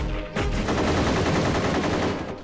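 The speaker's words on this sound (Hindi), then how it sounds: "अपने फौजी भाइयों पर गोलियां क्यों चला रहे हो?" Sustained rapid gunfire fills a film scene where soldiers are shooting, a loud continuous automatic burst that starts abruptly and keeps going without letting up.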